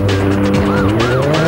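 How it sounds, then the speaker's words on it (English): Pontiac racing along in Need for Speed: High Stakes during a police pursuit, its steady engine drone shifting pitch up and down with a faint tire squeal, loud and continuous throughout. "The speeder is spotted driving a Pontiac."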